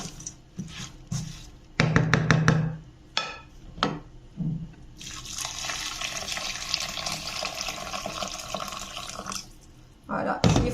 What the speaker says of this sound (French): je vais verser l'équivalent d'à peu près 2 litres d'eau bouillante